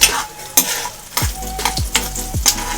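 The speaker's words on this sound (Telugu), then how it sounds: "అన్నీ బాగా ఎర్రగా వేగాలమ్మా" Spices and cashews for mango pulihora sizzling in hot oil, with loud scraping stirs of a spatula against the pan at a steady rhythm and no voices.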